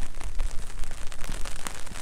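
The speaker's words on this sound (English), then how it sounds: "Now it's just endless rain for weeks, and it doesn't seem to have an end." Steady rain falls for weeks on end, here as a dense, continuous patter with scattered crackling drops, moderately loud and with no voices.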